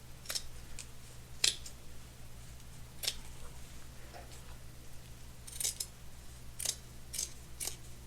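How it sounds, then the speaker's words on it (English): Scissors snip through army jacket fabric in a quiet room, a series of crisp, close, separate cuts spaced a second or more apart, with soft rustling between them. "So I'll cut this. Make sure I don't cut both layers."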